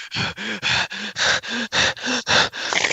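A person imitates heavy, panicked breathing: about ten sharp, rhythmic gasping breaths in quick succession, close and loud, with nothing else in the background.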